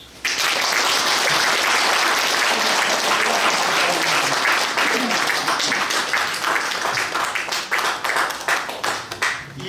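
A church congregation at a pastor's installation and emeritus pastor ceremony breaks into loud, sustained applause that starts abruptly, stays dense and full, then thins into scattered claps toward the end.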